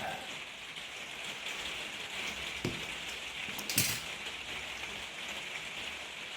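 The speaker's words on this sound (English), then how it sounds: "have I already said it's raining outside?" Steady rain falls outside, a soft continuous patter heard from indoors with a couple of heavier drips or taps standing out, no talking over it.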